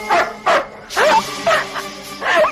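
Dogs barking loudly and close by in a TV drama scene, with about five sharp, yappy barks in quick succession.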